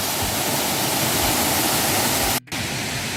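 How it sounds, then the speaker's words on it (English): A small waterfall inside the Hallein salt mine in Austria gives a loud, steady rushing splash, close by and continuous apart from a brief dropout near the end, with no talk. "And here we have a wee waterfall."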